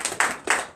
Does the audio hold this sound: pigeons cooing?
no